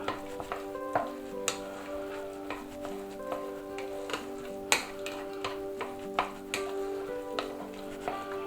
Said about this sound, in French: Donc là on remue.